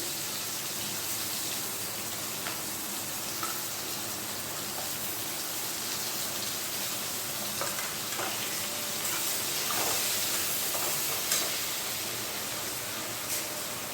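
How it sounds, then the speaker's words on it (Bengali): Chopped onion frying in a pan over black cumin seeds, giving a steady, close hiss of sizzling oil for the whole stretch, with a few faint scrapes and ticks from stirring. "এবার দিয়ে দিচ্ছি পেঁয়াজ কুচি"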